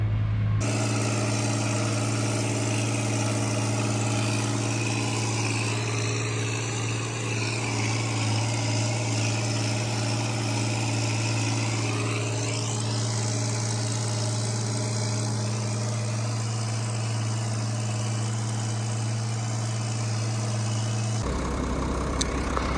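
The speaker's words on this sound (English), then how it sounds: "we got the disc all put back together, and we are out doing some disking" A tractor engine drones steadily and close while pulling a disc through a field of corn stalks during spring tillage, a constant low rumble holding for about twenty seconds with no talk.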